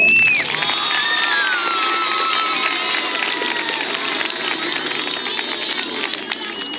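A school assembly crowd of children and parents claps and cheers for third- to fifth-grade award winners, a steady broadband roar of applause with high shrill voices sliding above it, gradually easing toward the end.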